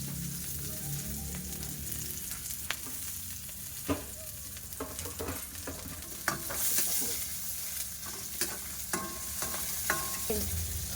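Beef and onion sauté in a hot pan, a steady sizzle broken by repeated scraping stirs and light utensil clicks, close and continuous with no talking.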